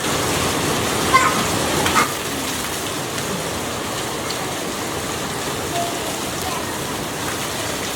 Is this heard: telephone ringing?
no